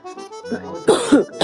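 Several harsh coughs burst out close by in cold, windy weather in Quebec, following a few soft vocal sounds at the start.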